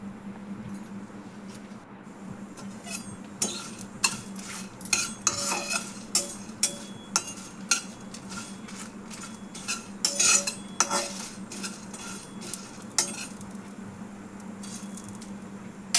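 A metal spoon scrapes and clinks against a pan while coriander seeds and cumin are stirred and fried for a hot and spicy ginger and black pepper soup, with irregular sharp taps and a steady low hum throughout.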